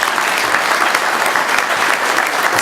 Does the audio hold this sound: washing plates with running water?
no